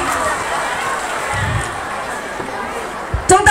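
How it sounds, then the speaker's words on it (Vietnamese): Crowd applause for student contestants at a Vietnamese secondary school Teachers' Day quiz event: a steady, dense wash of clapping and crowd noise that continues throughout, with a few brief sharper sounds near the end. "chúng ta dành cho các thí sinh một tràng pháo tay nồng nhiệt nhất"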